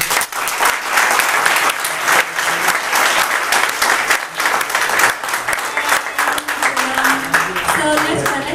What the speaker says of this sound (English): we would like to have another big round of applause for everyone